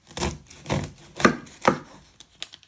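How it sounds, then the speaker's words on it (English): A knife chops through the end of an onion on a board, four firm cuts in steady rhythm followed by a few lighter taps, close and clear with no talking. "You first want to chop your end off."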